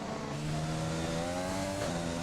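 A Formula 1 race car engine in F1 2020 at the Spanish Grand Prix holds a steady, sustained drone with layered harmonic tones, loud and continuous throughout, with a slight pitch shift near the end.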